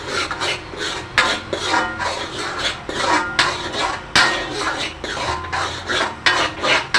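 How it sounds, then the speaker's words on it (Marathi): Spice masala for Malvani chicken gravy being sautéed in a pan, with a spatula rasping and scraping continuously against the metal in close, busy strokes and occasional knocks, and no voices. "सगळे मसाले चांगला परतवा"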